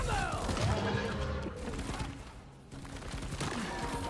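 Bosco, the support drone in Deep Rock Galactic, opens fire in a rapid burst of gunshots. The shots are mixed with cave rumble and other game sounds, and a voice speaks over part of it.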